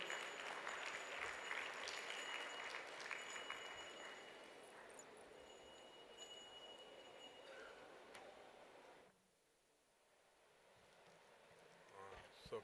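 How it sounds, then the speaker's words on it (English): Applause from a summit audience welcoming a speaker, fairly faint and sustained, thinning out and stopping partway through before quiet room tone and a few soft sounds. "please let's give a huge round of applause"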